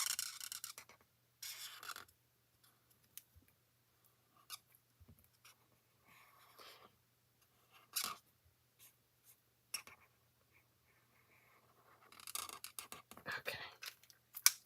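Marker or colored pencil strokes on a paper card, quick scratchy bursts of coloring separated by pauses, close and fairly faint.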